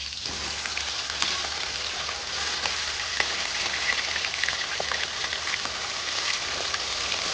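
Fish sizzling as it fries in a pan, a steady dense hiss with scattered pops and crackles running throughout at an even, moderate level.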